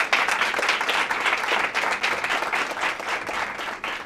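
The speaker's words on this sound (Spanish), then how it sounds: "Por favor, un fuerte aplauso" An audience applauds a guest introduced at a women-in-technology event, with dense, sustained clapping that holds steady for about four seconds before thinning slightly at the end.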